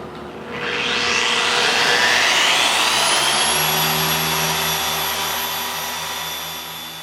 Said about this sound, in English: Now I'm going to click the machine back on, which sets to 0, and I'm going to bump it up to speed setting 6.